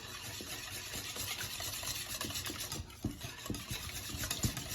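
Blueberry sour cream muffin batter is stirred in a bowl, giving a steady, soft scraping and churning with irregular thuds from the utensil. It sounds close and fairly quiet, with no talking.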